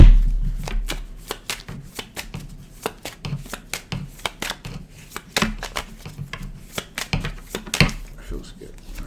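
A deck of cards is shuffled repeatedly in fast riffling bursts of crisp flicking, close and clear, while a person speaks intermittently.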